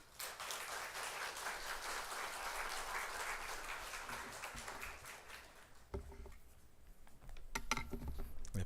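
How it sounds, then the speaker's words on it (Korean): A church congregation applauds steadily as the pastor comes forward before a Sunday sermon, a dense patter of many hands that thins and fades near the end. "목사님 나오실 때 우리 박수로 환영해 주시면 감사하겠습니다."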